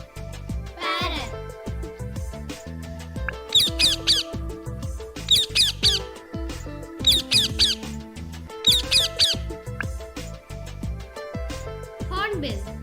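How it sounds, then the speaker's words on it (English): A parrot gives repeated shrill squawks in short bursts of several calls, standing out clearly over continuous background music. "Parrot."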